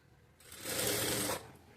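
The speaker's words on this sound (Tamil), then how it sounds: "இதை அப்படியே வந்து மடித்து தைச்சிக்கணும்" A sewing machine stitches down the folded edge of a blouse during a tailoring lesson. One short whirring run of about a second rises over a quiet room, then stops.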